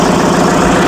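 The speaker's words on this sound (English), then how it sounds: "I am ready to switch on the engine" An engine runs at a steady idle right after being started, a loud, close, continuous rumble with a fast even throb and no voices over it.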